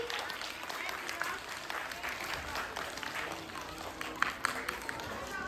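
Schoolchildren and audience clapping for prize winners at a school Diwali and sports week prize ceremony: fairly dense, ongoing applause from a crowd with voices and chatter mixed in.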